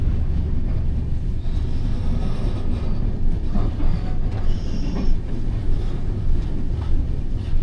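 A passenger train running at speed, heard from inside the carriage: a loud, continuous low rumble and rattle with faint squeals and clanks, with no speech.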